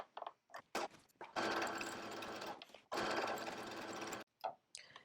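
A sewing machine runs a zigzag stitch along jacket seams, close and loud in several bursts, with two long steady runs between short starts and stops.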